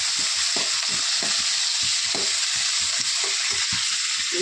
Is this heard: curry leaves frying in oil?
yes